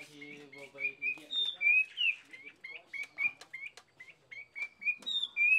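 A hwamei songbird sings close by in a village house, with bright, whistled, repeated phrases in a lively rhythm and faint low murmurs early on.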